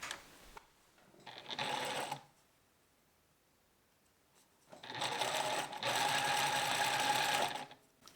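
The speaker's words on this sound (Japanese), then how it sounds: "これを縫うすぐ近くに当てて縫っていきます。" A sewing machine stitches knit fabric with sandpaper set beside the seam, running in two quick mechanical bursts, a short one and then a longer one, with near-silence between.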